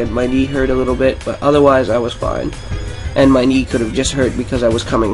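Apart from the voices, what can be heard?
No everyday noises stand out.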